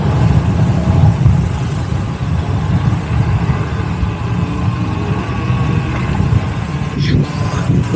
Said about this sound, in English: This crazy traffic.